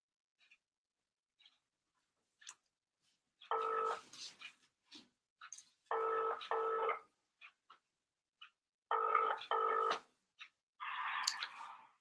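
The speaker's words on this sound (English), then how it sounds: "Right, Mark, I'm ringing you to pick up" A phone call rings out over a live phone-in line, with repeated two-tone ringback bursts of about a second each, spaced a few seconds apart, loud and clear with small clicks between.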